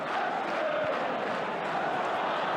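A football stadium crowd in a 2005-06 Premier League match between Middlesbrough and Manchester United keeps up a broad, continuous roar of applause and cheering, heard at a steady distance.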